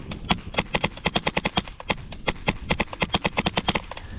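An airsoft gun fitted with a Wolverine system fires BBs in a 50-foot headshot test, sounding as a long string of sharp, crisp pops, some in quick runs and some spaced apart, near and fairly loud.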